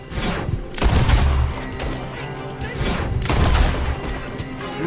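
Gunfire in the Red Dead Redemption 2 video game, set around the city of Saint Denis: a few heavy, booming shots with low thuds, somewhat distant and reverberant, set against a continuous busy background.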